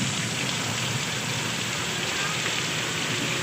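A sudden heavy downpour pours over a vendor's market stall, a dense, constant hiss of rain throughout with no breaks, loud and close.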